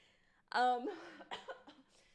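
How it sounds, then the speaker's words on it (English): A single harsh cough bursts out close by, followed by a few shorter rough breaths or throat sounds. "I keep coughing like this"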